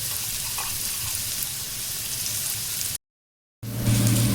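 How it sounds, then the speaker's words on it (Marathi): Chili and garlic frying in hot oil in a home Konkani kitchen give a steady broadband sizzle, broken by a brief silent cut before a louder burst of crackling as the pan resumes. "इकडे तेल गरम करत ठेवलेलं आहे. मिरची टाकते, लसूण टाकून देते."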